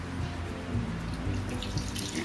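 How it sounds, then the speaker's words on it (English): Water pours steadily from a tap over freshly made chhena, curdled milk for rasgulla, in a constant close splashing rush with no voices. "Now add some water."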